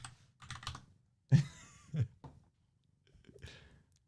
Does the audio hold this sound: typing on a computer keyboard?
yes